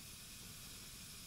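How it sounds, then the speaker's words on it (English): A continuous, even hiss of steam from machinery in the horror video game Saw II: Flesh & Blood, a brief steady wash of noise with no breaks. "Looks like it's got steam."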